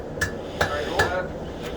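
A smith's hammer strikes hot metal while a weapon is forged at a Frankenmuth, Michigan forge, giving four sharp metallic clangs spaced roughly every 0.4 seconds over a low shop background.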